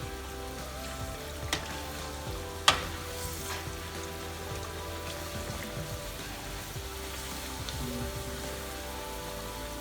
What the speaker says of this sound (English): just simply fry them for about 5 minutes